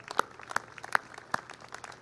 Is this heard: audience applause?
yes